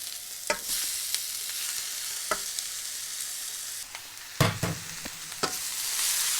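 Meat tipped all at once into cabbage frying for a quick bulgogi with broccoli, then stirred: a steady sizzle with sharp bursts and scraping clatter of utensil strokes, no talking.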